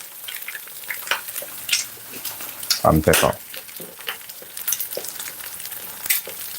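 An egg fries in a hot pan with sizzling and frequent sharp pops, including a louder cluster of crackles midway, while a person talks over it.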